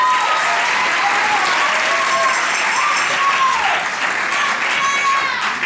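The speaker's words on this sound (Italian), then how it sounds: "qui accanto ho il segretario Cola, un applauso per favore." An audience applauds at a school music performance in Lumezzane, a dense, steady clapping that holds for several seconds with a few voices and cheers mixed in.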